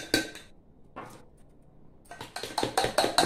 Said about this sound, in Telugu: ఈనో వేసి బాగా కొట్టాలి.